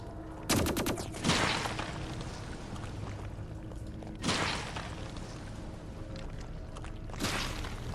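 Exploding sacks bursting in the video game Dolmen, several sharp loud bursts spaced a few seconds apart over a low ambient game background.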